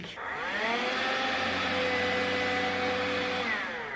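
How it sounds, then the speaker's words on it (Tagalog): A handheld window vacuum cleaner sucking up water runs as a steady close whir with a slightly shifting pitch for about three seconds, starting and stopping cleanly with no talking. "Vacuum to siya. Tapos, dito, nava-vacuum yung mga tubig."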